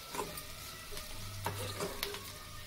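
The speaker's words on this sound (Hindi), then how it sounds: "अभी इसे अच्छे से हिलाना, कितना ये तेल में फ्राई होते हैं उतना टेस्टी बनता" Shrimp stirred in hot oil in a pan, with a faint steady sizzle and a few soft scraping clinks of the spoon over roughly three seconds, quiet and close, with no voices.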